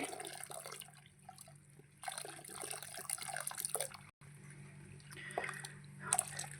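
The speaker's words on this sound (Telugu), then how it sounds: "నీళ్ళు యాడ్ చేసుకుందామండి" Water pours and splashes into a clay pot of cooking dal in uneven bursts, with dripping and liquid sloshing, fairly quiet and close.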